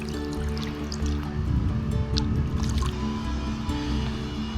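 Several trout splashing in the spring-fed stream water at Bennett Springs: scattered wet slaps and drips over a constant close burble of flowing water, with no talking.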